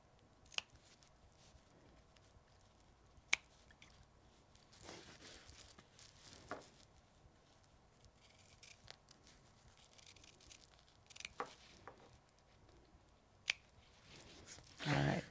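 Quiet scissors snipping through fabric to trim the bottom off a sewn apron hot pad, a few sparse, sharp cuts spaced apart over low room noise, ending with a louder rustle of cloth.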